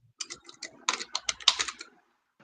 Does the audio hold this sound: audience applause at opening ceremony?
no